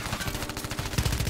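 A close burst of rapid automatic gunfire in Call of Duty Warzone keeps a steady rhythm for just over a second, loud with no voices.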